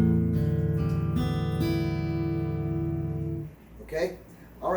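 Tuned acoustic guitar strings ringing as a few plucked notes and a strummed chord that sustain, close, then fade into a short burst of talking at the end.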